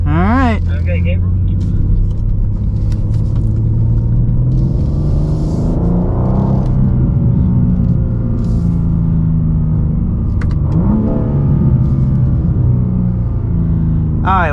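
BMW M2 (2024) with an 8-speed automatic, engine revving and rising and falling in pitch during drifting on a driving school course, loud and close from inside the car, with voices talking over it.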